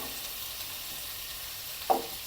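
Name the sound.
okra frying and being stirred with curry leaves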